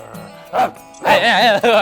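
Dogs barking in a few short bursts close by, a yip, then a longer, louder run of barks, with no talk over them.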